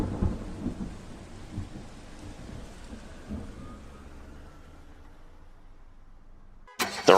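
Rain-and-thunder effect in a 1940s private-detective audio drama: low, rolling rumbles over a soft wash of rain that fades toward quiet, then ends in a brief sharp burst.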